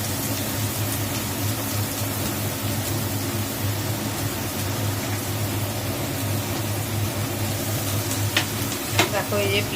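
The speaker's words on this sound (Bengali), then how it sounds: "এবার পেঁয়াজটা একটু ভালো করে ভেজে নেবে" Onions hiss and sizzle in hot oil in a home kitchen, a steady frying crackle with a low hum beneath it and a few brief clinks near the end.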